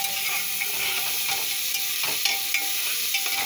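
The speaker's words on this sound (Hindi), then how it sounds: "और प्याज को ब्राउन होने तक भूनेंगे।" Onions stirred and fried in a pan until brown give a constant close hiss of sizzling oil with faint scraping from stirring, steady and alone without voices.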